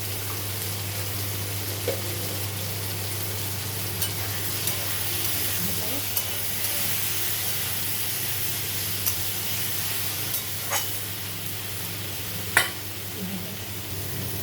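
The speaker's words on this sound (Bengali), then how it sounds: "চিংড়ি মাছটা দিয়ে দেবো।" Prawns frying in a hot pan with mustard paste and green chilli paste, a continuous hissing sizzle with a low steady hum beneath it and occasional soft clicks of stirring.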